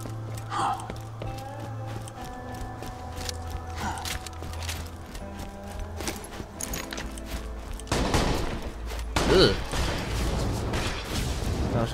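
In Borderlands 2, shotgun blasts boom out as a couple of loud, broad bursts late in the moment, over steady mechanical game hum and scattered clanks, with a player's voice talking in between.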